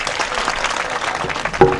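An audience at a Hindi poetry recital applauds in dense, even clapping that holds at a steady level for the whole short stretch.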